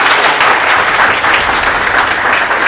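A large crowd at a meet-and-greet session in Jaipur claps loudly and continuously, a dense wash of applause with no voices.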